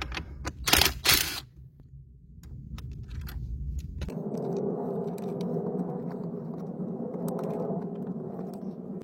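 A bolt being undone with a wrench, with a cluster of sharp, close metallic clicks early on, then a quiet pause and a steady, scraping rumble that carries to the end.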